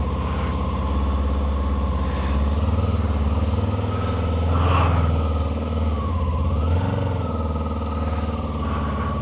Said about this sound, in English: Let's go for a quick ride. I've just put it into first gear.